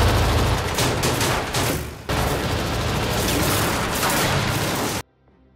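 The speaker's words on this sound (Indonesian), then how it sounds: "Fred langsung membalas tembakannya." Gunfire exchanged in a film scene, dense loud rapid bursts of shots and booms rolling continuously for about five seconds with a brief dip midway, then cutting off abruptly into near silence.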